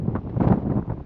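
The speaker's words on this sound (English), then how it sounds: "Super windy." Strong wind buffets the microphone on a mountain peak during a hike in Utah, a continuous loud roaring rumble that fills the whole moment with no voices.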